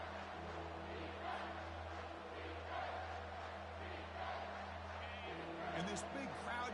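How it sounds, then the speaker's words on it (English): A big stadium crowd at an Ohio State versus Alabama college football game roars steadily as the defense lines up near the goal line, a dense, continuous wash of cheering that swells slightly toward the end. "this big crowd doing everything possible to inspire this defense down here near the goal line"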